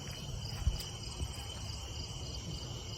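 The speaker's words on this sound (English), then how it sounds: "Yeah, it's like a cricket or something." A cricket chirps steadily outdoors at night, faint and continuous under a hissy background, with a couple of soft thumps and no voices.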